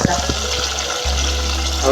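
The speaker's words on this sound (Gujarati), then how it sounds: "પણ પાણી થોડુંક નાખી દેવાનું" Water poured into a pan of brinjal curry cooking with yogurt makes a brief, loud, close gush and splash over a low steady rumble.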